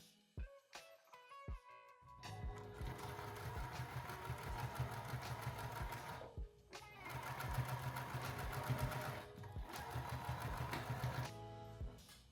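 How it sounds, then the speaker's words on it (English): A sewing machine stitches a sweatpant waistband closed, opening with a few short taps and then running in a steady, fast, rattling hum that briefly pauses midway and resumes, close and fairly loud. "take it to the sewing machine, and close the remainder of the waistband."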